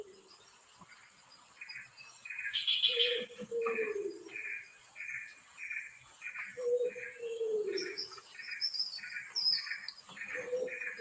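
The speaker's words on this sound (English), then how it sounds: "Black-eared barbet calling in the background." A black-eared barbet calls in Borneo rainforest, repeated low hooting notes at a slow rhythm, moderately distant, mixed with steady insect chirping and other bird calls.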